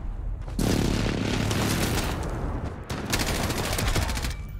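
Sniper rifle fire in an online shooter video game: loud, close bursts of gunfire, one near the start and another about two-thirds through, with a busy battle din filling the gaps.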